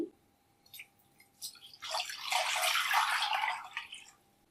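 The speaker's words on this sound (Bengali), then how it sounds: "আর এই প্যানের মধ্যে দিয়ে দেবো 5 কাপ পানি" Water pours into a pan on the stove for sugar syrup: a few faint drips first, then a splashing, gushing stream that swells for about two seconds and tails off into trickles.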